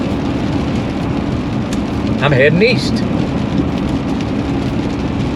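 Steady rain on a gloomy 40-degree day in Auburn, Indiana, a constant broadband hiss of drops filling the whole clip while someone speaks briefly over it midway.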